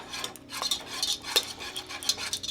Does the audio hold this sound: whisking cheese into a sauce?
yes